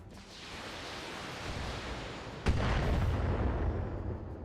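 Artillery trebuchets firing in the BattleTech video game: a rushing roar of heavy fire that swells to a sharp, booming launch midway, followed by a sustained rumbling wash.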